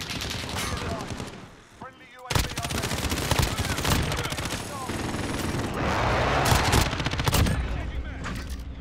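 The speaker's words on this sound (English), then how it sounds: "Elevated sentry gun." Elevated sentry gun firing in Modern Warfare, rapid sustained bursts of automatic gunfire with a brief lull, loud and dense, mixed with other battle noise and a voice speaking over it.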